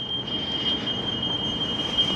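A train runs near the city of Perth, its steady rumble joined by a sustained high wheel squeal or warning tone; close, loud and continuous, with no voices.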